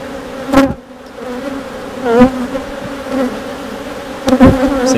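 Honeybees buzzing steadily around an open hive during a frame inspection, a close continuous drone with a few louder passes as individual bees fly near.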